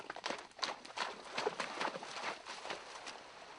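Steady clip-clop of horse hooves walking at a moderate pace, fairly close, with a faint background hum.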